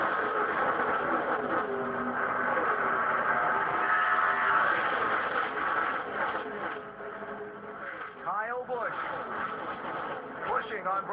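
NASCAR Nationwide Series race cars roar at Daytona as the green flag drops, a dense, loud engine wash filling the whole stretch beneath continuous commentator talk.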